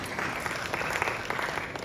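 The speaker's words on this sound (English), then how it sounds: "Another round of applause, kindly." Audience applause at a conference on textiles, leather and fashion in East Africa: steady, dense clapping from a crowd, fairly even in level, with no voices standing out.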